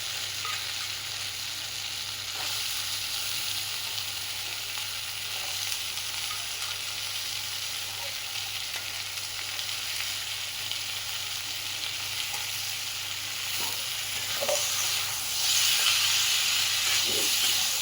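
Chickpeas and potatoes fry in a pan with a continuous, even sizzle and hiss throughout, punctuated by soft stirring scrapes and knocks that grow slightly louder toward the end.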